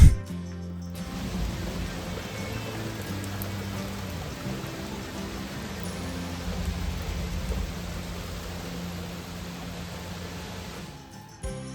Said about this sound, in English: It is officially raining now.